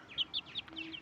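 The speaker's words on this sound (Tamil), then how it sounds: "சாதா கோழி தான்." Ordinary domestic hen, not a fighting breed, clucking in several short, close bursts over about a second, with no talk.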